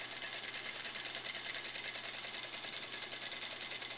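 A sewing machine stitches down the side of a fabric triangle while making a blouse, running as a steady, rapid mechanical patter that is close and moderately quiet, alone without talk.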